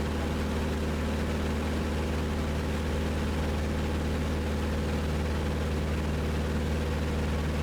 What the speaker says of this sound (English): especially now, when we're up in the air, you can't hear anything except the engine.